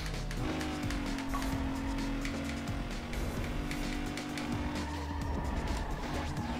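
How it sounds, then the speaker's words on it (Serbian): Car engines from the street-racing video game Need For Speed Underground, a steady, loud engine drone with a sustained tone and hints of tire noise throughout. "zvukovi automobila su onako solidni, nisu nešto baš mnogo realistični"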